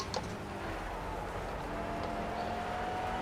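A car engine droning steadily and dull, low and muffled, in the racing game Project CARS, with a faint rising whine running through it and no talk.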